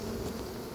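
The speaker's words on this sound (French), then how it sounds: "on a des abeilles maintenant" Honey bees from a swarm being hived, a continuous low buzzing hum of many insects heard briefly and fairly quietly.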